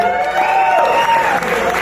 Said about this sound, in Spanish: Quiero pedir un gran aplauso para Lalo.